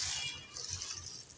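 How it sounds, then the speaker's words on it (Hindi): Water streams and splashes steadily into a metal pressure cooker, a bright continuous pouring sound close by with no talking. "अब इसके अंदर पानी डालूंगी।"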